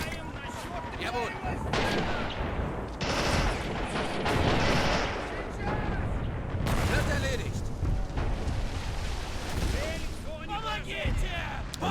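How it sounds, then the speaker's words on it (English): Steady tank cannon fire from a T-34 in the WW2 strategy game Men of War: Assault, repeated booming shots and gunfire layered in a loud, busy battle mix, with a voice talking over it. "Constant fire from a T-34."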